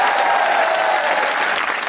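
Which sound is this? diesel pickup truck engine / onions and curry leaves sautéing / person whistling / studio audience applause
studio audience applause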